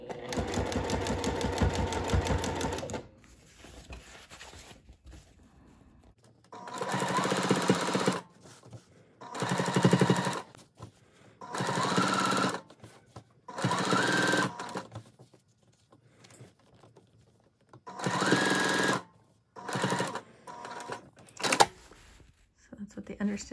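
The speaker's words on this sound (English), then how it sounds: "And I'm sewing all of the seam allowance." A sewing machine stitches the seam allowance of a floral sundress in several short, rapid bursts separated by pauses, starting with one longer run, close and clear.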